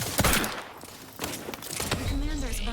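Gunfire bursts and a thudding grenade blast in the video game The Outer Worlds 2, sharp loud hits early and again midway, with a synthetic voice talking over the combat.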